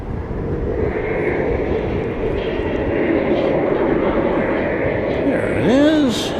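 Airplane passing at night at DFW Airport, a steady engine roar rising slightly toward the end as it draws nearer, with people talking over it.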